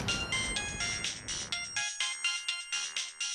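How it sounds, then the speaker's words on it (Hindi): A phone ringtone plays a repeating electronic melody in short regular pulses, clear and close, with no voices. "अरे रोहित ने कॉल किया है"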